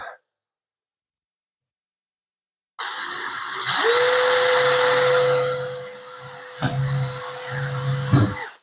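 After a long silence, a power drill drives stainless steel screws into a boat's rub rail, winding up to a loud sustained whine that holds for a few seconds, then stops and gives short bursts near the end.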